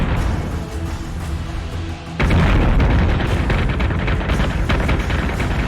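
Ship weapons opening fire in the space combat game Battlestar Galactica Deadlock, a loud booming barrage that erupts about two seconds in and keeps rumbling with repeated blasts over a steady background hum.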